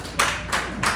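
Three short bursts of audience applause at a comedy show, evenly spaced and fairly close, rising and fading quickly with no talk.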